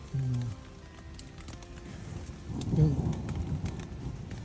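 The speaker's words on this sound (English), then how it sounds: "It's been raining the whole time." Steady rain patters on a taut tent surface nearby, with a low rumble of distant thunder swelling midway through and fading out.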